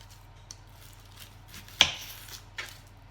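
A knife trims the ends of onions and peels them on a cutting board, giving a few sparse, close taps and cuts, one more pronounced than the others, over a low steady background hum.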